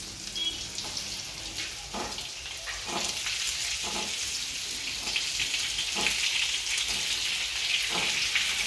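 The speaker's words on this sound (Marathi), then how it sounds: "आता फोडणीला जिरे टाकायचे, थोडीशी मोहरी टाकायची, हिंग, आणि त्यात" Cumin, mustard seeds and asafoetida sizzle and crackle in hot tempering oil for a ridge gourd dish, a steady close frying hiss punctuated by sharp popping bursts throughout.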